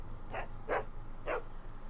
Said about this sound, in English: What are you barking at? What matter, Sam? What are you barking at?